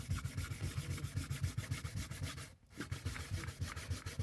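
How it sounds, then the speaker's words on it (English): Wet sanding of a finish between coats, sandpaper worked in a soft, controlled pattern: steady, rhythmic back-and-forth rubbing strokes, close and clear, with one brief pause midway before the strokes resume. "Let the sandpaper do the work."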